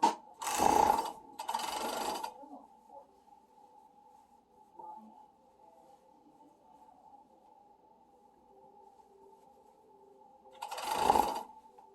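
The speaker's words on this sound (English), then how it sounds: "then I just flip over again and pop it through my serger" A serger stitches flutter sleeve seams in two short, loud whirring bursts near the start and another near the end, with a faint steady mechanical hum in between.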